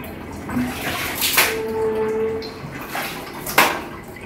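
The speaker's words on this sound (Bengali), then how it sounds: "তাই জামা কাপড়গুলো ধোয়ার জন্য আমি বালতিতে রেখেছিলাম, তো সে এখন নিজেই ক্লিন করছে।" A child splashes clothes around in a water bucket indoors, producing intermittent sloshes and drips with a couple of sharper splashes, fairly close and alone.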